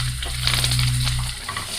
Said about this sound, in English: we're going to go ahead and add our onions in